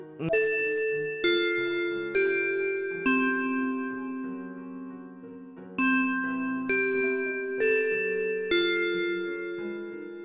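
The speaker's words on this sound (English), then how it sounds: "The bell rang." A school bell in the Corpse Party Blood Drive video game rings out a slow melodic chime sequence of clear, resonant bell tones, each note ringing and fading before the next, alone and fairly soft.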